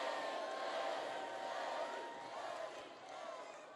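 A distant crowd at a Donald Trump campaign rally in Monroe, Louisiana, cheers and whoops in a steady, faint wash of voices that swells slightly and then eases, with no clear single speaker.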